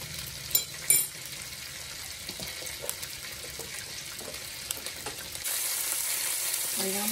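Oil and butter sizzle quietly in a pan as the base for a spaghetti-and-meatball sauce, a soft steady hiss broken by a couple of light utensil knocks, growing louder near the end.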